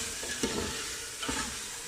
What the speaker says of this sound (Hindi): अब हम इसके अंदर जो आलू हमने काट के रखे थे वो डालेंगे और आलूओं को भी हम 2 से 3 मिनट के लिए अच्छे से भून लेंगे।